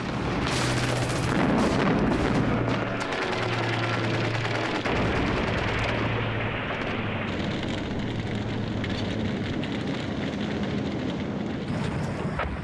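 Gunfire and artillery in World War II archive footage of the liberation of Holland. Dense, continuous shooting and booms roll on for the whole stretch with no voices.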